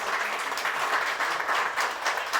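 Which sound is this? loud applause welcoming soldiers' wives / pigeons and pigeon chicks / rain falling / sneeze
loud applause welcoming soldiers' wives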